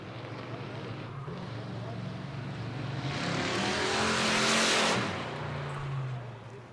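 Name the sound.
race car engine running at an enduro raceway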